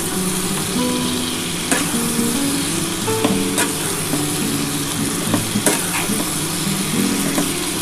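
Ridge gourd, potato and spices fry in a pan with a loud, close sizzle, broken by sharp scrapes and clicks from stirring, and no one speaks.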